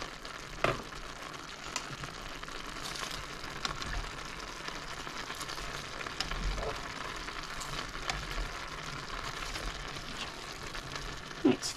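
Cabbage and peppers fry in a crowded skillet with soy sauce and beef, giving a steady, close crackling sizzle with a few sharper pops and stirring clatters throughout.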